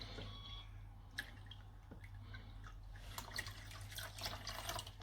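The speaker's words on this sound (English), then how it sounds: "So now I'm going to add the beetroot to the carrot mixture." Beetroot juice is poured into carrot juice, a soft trickling and splashing of liquid that is faint and close, over a low steady hum, with no talking.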